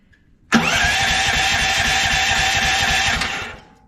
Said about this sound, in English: All right, let's get this thing fired up.